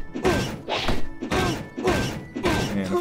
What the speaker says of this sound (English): I only have one way, melee with a sword.